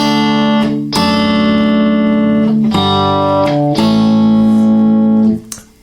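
An acoustic guitar strums a chord pattern, ringing chords each held about a second before the next strum, loud and close, then fading out.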